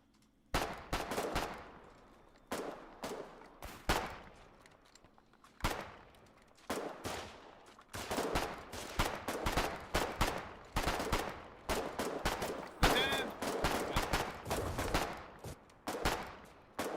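Rapid bursts of gunfire crack through a video game battle, loud close shots and automatic volleys repeating in irregular clusters with brief pauses, the fusillade continuing throughout.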